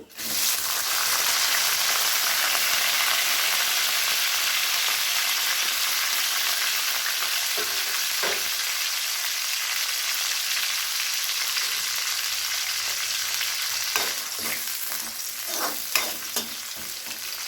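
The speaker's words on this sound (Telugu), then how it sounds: "సన్నగా కట్ చేసి పెట్టుకున్న 2 ఉల్లిపాయలు, అలాగే 3 పచ్చిమిర్చి, కొంచెం కరివేపాకు వేస్తున్నాను నేను." Sliced onions, green chillies and curry leaves fry in hot oil on a medium flame, giving a loud, steady sizzle that runs the whole time with a few brief crackles and stirring scrapes near the end.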